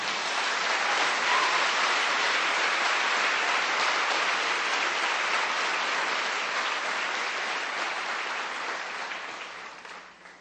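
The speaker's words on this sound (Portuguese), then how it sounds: "Dê um aplauso para ele, por favor." A church congregation applauds during a Sunday sunrise service, a dense, even roar of many hands that holds strong for about ten seconds, then tapers off at the end.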